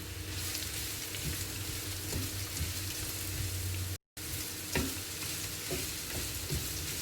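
Onions sautéing in a pan until wilted, a continuous close sizzle with occasional stirring scrapes and clicks, briefly cut to silence midway, no talking over it.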